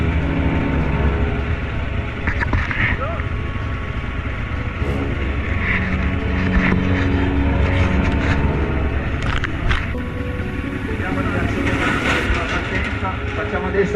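KTM enduro motorcycles, including a KTM Super Enduro and a KTM 640, run on the Hard Alpi Tour 2017 with a continuous loud engine drone and rough mechanical texture throughout, while voices are heard alongside.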